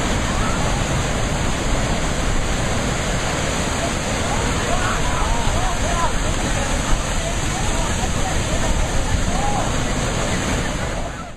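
Turbulent water churns violently in a deadly pool, a dense, loud, unbroken roar of rushing, crashing water with no pauses throughout.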